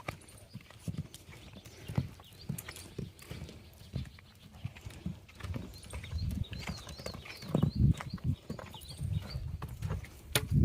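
Horses run at a village fair, their hooves clip-clopping in quick, irregular beats that come close and loud at times and fade at others, with a soft crowd murmur in the background.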